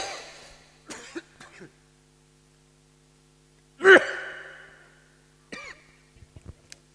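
A single sharp, loud cough cuts in near the middle, with soft breathy gasps and sighs scattered before and after it in an otherwise quiet room.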